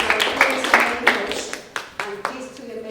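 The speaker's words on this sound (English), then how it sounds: "I want to give a round of applause for that." Audience applause at a poetry event, scattered hand claps of moderate loudness that thin out over a few seconds.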